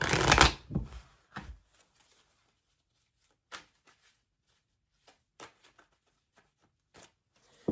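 Tarot cards are shuffled in a quick riffle with a soft burst of flutter at the start. Scattered light taps and slides of the cards follow in a quiet room.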